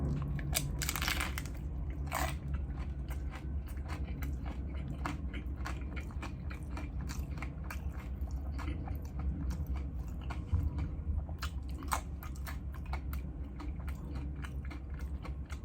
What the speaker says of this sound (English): That crunch is so nice.